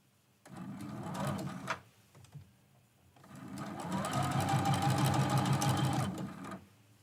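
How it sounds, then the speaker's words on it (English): A sewing machine stitches a quilt block seam in two close, steady runs, a short burst and then a longer even whirr separated by a pause, with no voice over it. "we're going to sew this seam as well"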